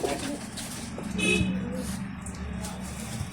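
Pigeons coo softly in a loft, a short low cooing call rising midway through a steady background of outdoor hum.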